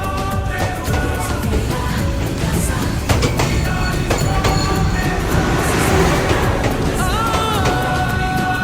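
A train rumbling through Hanoi's narrow train street in Vietnam, a loud, steady roar with rail clatter and squeals that holds close and constant for the whole stretch.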